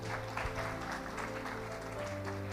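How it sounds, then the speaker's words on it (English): Audience applause at a security-versus-privacy debate event, a continuous wash of clapping from a crowd heard over a steady low hum from the hall's sound system. "Huge round of applause for Commander Saini."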